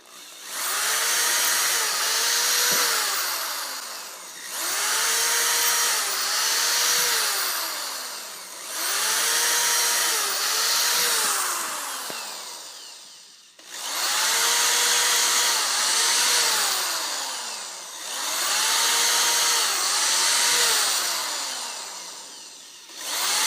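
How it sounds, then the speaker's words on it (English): A power drill whirs loudly in repeated bursts of about three seconds each while drilling out holes, its pitch rising and falling with each pass, separated by brief pauses. "So I'm going to take this and drill these out."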